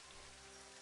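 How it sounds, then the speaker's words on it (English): Rain falls in Elder Scrolls 2 as a steady, soft, continuous hiss, faint and even for under a second, with no voices. "It's raining."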